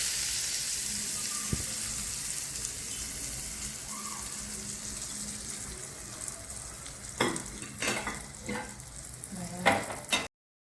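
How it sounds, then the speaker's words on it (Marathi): Tempering is poured into a dosa chutney: a quiet frying hiss runs under a low hum, then several loud crackling sizzle bursts erupt near the end before the sound cuts off. "आता आपण त्याच्यामध्ये फोडणी टाकून घेऊ"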